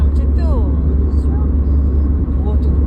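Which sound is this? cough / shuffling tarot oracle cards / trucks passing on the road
trucks passing on the road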